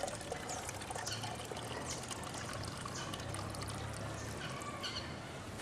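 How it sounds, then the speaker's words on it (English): Water from Lake Nicaragua poured into a cup, a steady close trickling and splashing that runs unbroken throughout, loud and alone. "we'll go ahead and pour out a cup of this"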